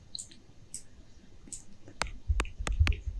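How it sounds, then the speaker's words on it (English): Short synthesized white-noise bursts shaped by an envelope, part of a two-layer collision sound design; faint hissy puffs early, then four sharp clicky noise hits with low thumps, each decaying quickly, heard alone. "Two white noises per channel"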